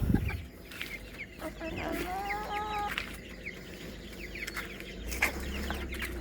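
White US Silkie chickens cluck and murmur nearby, with a clear drawn-out call in the middle and scattered soft clucks throughout, moderately quiet and close.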